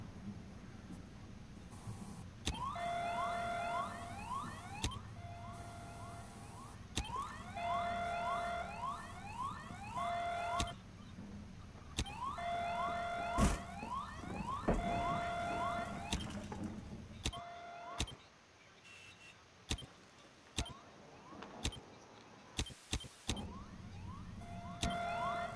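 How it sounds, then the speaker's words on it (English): An in-game alarm blares in a looping, rising electronic wail at the Bartlett U map in Rainbow Six Siege, repeating in steady cycles before cutting off, then scattered sharp impacts and gunfire follow. "Why is that alarm still going off?"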